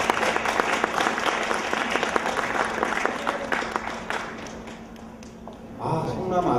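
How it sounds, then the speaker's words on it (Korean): An audience applauds at the 2007 Club Sarangbang Festival, a dense, steady wash of many hands clapping that tapers off toward the end, where a voice starts to speak. "여러분 박수로 받아주십시오"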